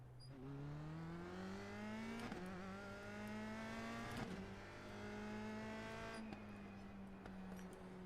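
USF2000 open-wheel race car in the iRacing simulator at Laguna Seca pulls out of the pits, its engine rising through gears in a smooth climbing whine, dropping at each of three upshifts before climbing again, steady and even throughout.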